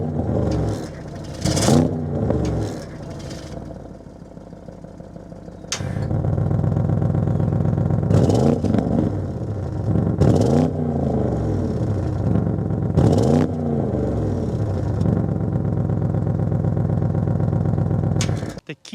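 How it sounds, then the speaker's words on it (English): A twin-turbo V8 in a 2025 Audi RS6 Avant Performance cranks and starts with a sudden roar, then settles into a deep, steady rumble punctuated by several throaty revs. "start this twin turbo V8 up so you can hear that exhaust note"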